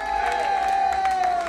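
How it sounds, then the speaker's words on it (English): An evening audience at a country music TV show taping at a chateau venue, giving applause and cheering that sounds like a steady crowd roar, with a sustained tone running over it. "give yourself a nice round of applause"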